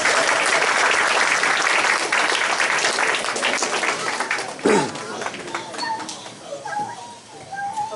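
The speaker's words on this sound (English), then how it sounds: "Let's give him a round of applause." Loud round of applause for a speaker at a Fruit Belt community land trust fundraiser, dense clapping that thins out midway as crowd chatter and voices take over.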